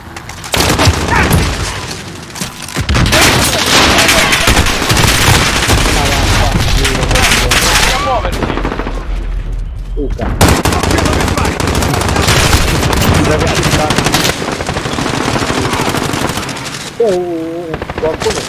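Dense automatic gunfire and bursts from Call of Duty: Modern Warfare Warzone gameplay rattle almost nonstop for the whole stretch, loud and close, with brief lulls, game effects and talk mixed in.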